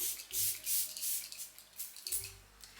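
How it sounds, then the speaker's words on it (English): Several short hissing sprays of MAC Fix+ Stay Over setting spray mist, a couple of quick bursts with a pause between them, close and fairly soft, no talking. "I'm gonna take my MAC Fix Stay Over setting spray to lock everything in."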